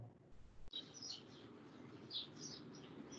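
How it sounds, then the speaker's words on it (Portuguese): Small birds chirp in short bright bursts from a moderate distance, scattered over a steady low background hum with no talking. "Estão vindo uns passarinhos de Antônio aí."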